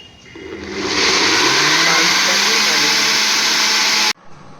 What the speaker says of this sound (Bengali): টমেটোটার খোসা ছাড়িয়ে নিয়েছি। এবার আমি মিক্সিতে এটা